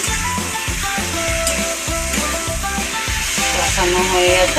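Bata fish masala in mustard paste sizzles in a pan, a steady frying hiss that runs under rhythmic background music throughout.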